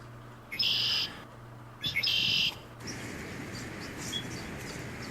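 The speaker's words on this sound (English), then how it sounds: "The birds are chirping." Two short bursts of high bird chirps close by, separated by a pause, over a soft outdoor background hiss.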